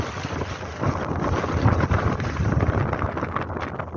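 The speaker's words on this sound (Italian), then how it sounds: "un vento gelido" Icy wind roars across an exposed mountain ridge on a hike in the Abruzzo national park, a steady broadband buffeting with gusts, loud against the microphone and without speech.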